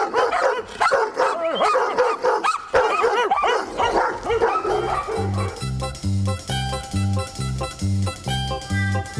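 A dog barks loudly and repeatedly in quick bursts for the first few seconds, then music with a steady beat takes over.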